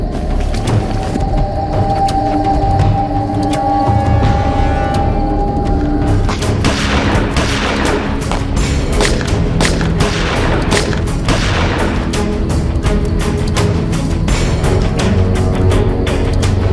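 Gunfire in a crime drama, with repeated sharp shots and booming reports in a loud fusillade over rumbling background noise, growing denser in the second half.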